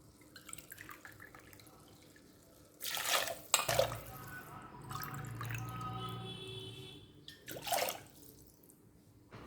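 Water pours from a tap in a few short bursts, splashing into a pot for millet porridge, with quiet clinks and handling noises between pours.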